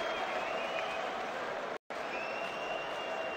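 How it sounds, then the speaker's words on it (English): A boxing arena crowd in Britain applauds after Carl Froch versus Mikkel Kessler II, a dense, steady roar of clapping and crowd noise with one brief dropout midway. "A round of applause for champion versus champion."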